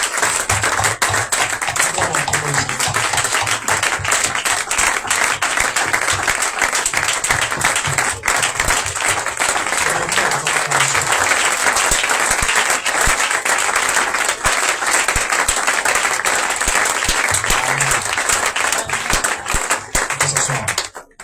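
A church congregation applauds loudly and continuously during a worship service, with dense clapping that lasts about twenty seconds and faint voices and cheers mixed into it.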